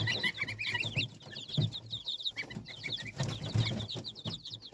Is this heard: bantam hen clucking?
yes